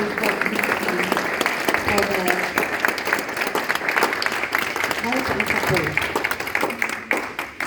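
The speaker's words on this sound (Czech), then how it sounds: "Jestli můžu poprosit, zatleskejme tady Kennetovi a týmu" A conference audience in Prague claps and applauds continuously, a dense patter of many hands that fills the room, with some voices mixed in.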